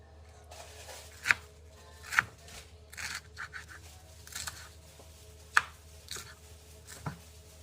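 A knife shredding Brussels sprouts on a cutting board, with sharp scattered chops at irregular intervals between softer scraping and rustling strokes, close and fairly quiet.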